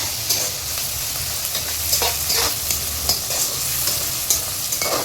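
Steady crackling sizzle of spices frying in hot oil, with occasional sharper pops and scraping stirs, close and continuous, no voices.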